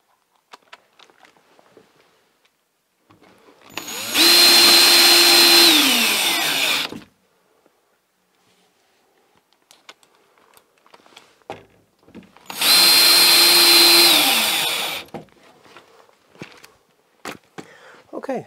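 A power drill drives screws into a Leviton circuit breaker panel, two loud sustained whirring runs a few seconds each with a quiet gap between them and handling noises around them.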